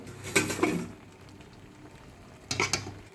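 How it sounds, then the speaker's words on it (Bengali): Chow mein noodles boiling in a pot, with a soft bubbling bed broken by two short bursts of stirring or pot clatter near the start and end, close by and with no one speaking. "চাউমিনটা সেদ্ধ হয়ে গেছে, আমি এটা নামিয়ে রাখবো।"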